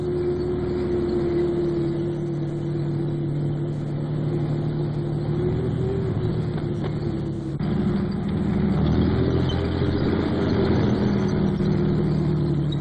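A 50-ton Centurion Mark III tank with a 650 horsepower Rolls-Royce Meteor engine drives past, giving a steady, loud mechanical drone with a heavy low rumble that swells slightly toward the end. No one speaks.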